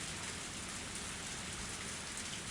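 Steady rain falls at dusk in a dark place with no streetlights, a dense, even hiss of drops with no voices.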